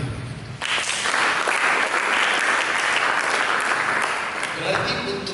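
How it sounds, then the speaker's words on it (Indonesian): A congregation applauds during a church sermon, loud dense clapping that swells after a brief voice at the start and holds steady for several seconds. "Berikan tepuk tangan."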